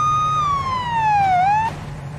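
A police car siren from the video game Police Simulator: Patrol Officers wails in one loud, close, falling sweep, rises briefly and then cuts off. A steady low engine hum continues underneath and no one speaks.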